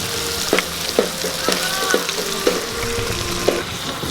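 Mutton sizzles and fries steadily in a hot pan, with a dense hiss broken by sharp stirring scrapes and clinks at roughly half-second intervals.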